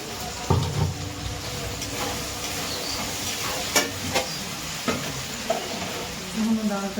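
Spices for a winter khichuri fry in a pan while being stirred, giving a continuous sizzle with intermittent scraping and clinking from the spoon against the pan.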